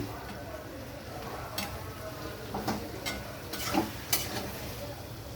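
Raw prawns go into a hot pan for a spicy Bengali taro (gathi kochu) curry. A steady sizzle of frying runs throughout, with a few sharp clinks and scrapes of stirring over it.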